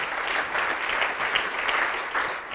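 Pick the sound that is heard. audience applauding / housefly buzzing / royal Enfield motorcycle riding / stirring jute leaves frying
audience applauding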